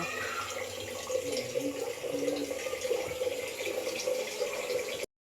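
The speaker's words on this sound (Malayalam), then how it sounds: "ഈ സൗണ്ട് കേൾക്കണത് ഈ ഫിൽറ്ററിൽ നിന്ന് വെള്ളം പിടിക്കുന്നതാണ്" Steady trickle of water running from a filter into a container, a constant gurgling flow that cuts off abruptly at the end.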